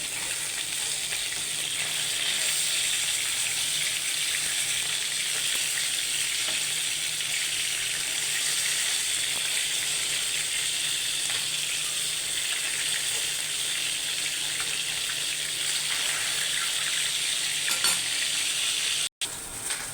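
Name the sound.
fish frying in oil in a wok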